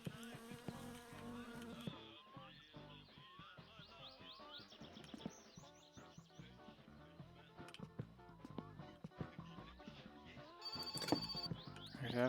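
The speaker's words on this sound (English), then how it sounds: "There's that phone again." A telephone rings inside the video game My Summer Car, its bell mixed into a busy bed of game sounds with a brighter burst near the end; a voice speaks briefly.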